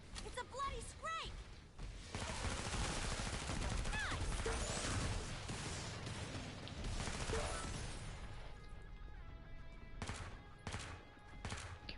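MP5RAS gunfire in Killing Floor 2 crackles through a dense, busy game mix, with sustained shooting and impact noise. Quick separate shots stand out near the end, and voices talk over the action.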